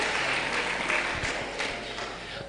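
Church congregation clapping together during a sermon, a steady wash of applause filling the room for a couple of seconds, fairly even and sustained without clear individual claps standing out.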